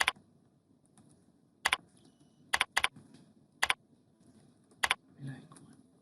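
Computer keyboard typing in a few quick bursts of sharp clicks spaced a second or so apart, fairly close, over a quiet room with a brief faint murmur.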